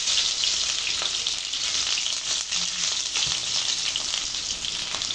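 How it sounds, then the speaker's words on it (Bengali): Onions dropped into hot mustard oil, frying with a loud, dense, continuous sizzle and crackle close up, steady throughout and free of talk. "গরম হয়ে গেছে, এখন আমি দিয়ে দিচ্ছি পেঁয়াজ।"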